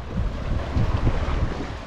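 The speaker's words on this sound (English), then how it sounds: "Windy out here." Strong wind gusting across open water, rumbling against the microphone with faint wave wash beneath, loud and continuous.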